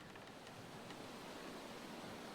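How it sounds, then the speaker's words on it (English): Ocean waves and wind in the video game The Long Dark form a steady, faint wash of surf-like noise that stays even throughout, with no voices. "That sounds like the ocean."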